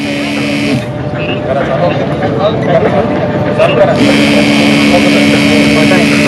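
An agricultural drone hovers over a field spraying pesticide, its loud steady motor whine droning throughout, briefly dipping in pitch before returning, with talk faintly underneath.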